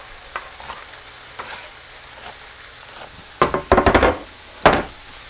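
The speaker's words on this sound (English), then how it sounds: "we're just going to stir them around and hope they brown up nicely with the rest" Grated potatoes for plant-based hash browns fry on a stovetop with a soft sizzle, then a burst of loud scraping stirs and a final clattering stroke near the end.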